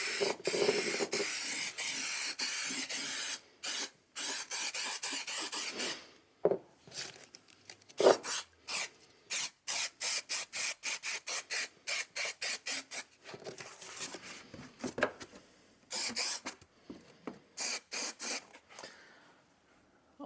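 Glue sprayed from a spray gun while lining a van interior with carpet: a long hissing spray, then many short, sharp bursts of varying length with brief pauses between them, close and fairly loud, with no talking.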